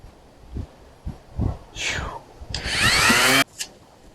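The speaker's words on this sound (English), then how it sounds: "So we'll get back to sanding this bumper." A few bumps and scrapes lead into a power sander whining up loudly on a Fiero car bumper for about a second, then cutting off abruptly.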